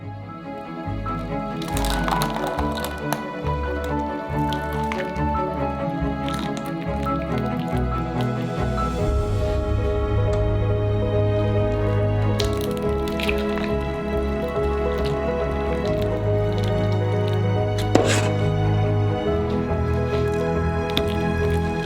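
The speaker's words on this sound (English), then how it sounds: "with the help of a saucepan, pour over the caramel." Hot caramel is poured from a saucepan over a hemisphere mold for a giant homemade Chupa Chups lollipop, giving drips and soft squishy liquid sounds under a steady musical background.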